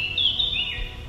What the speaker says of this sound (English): Apart from its trees, streams, waterfalls, these forests have birds. Lots of them.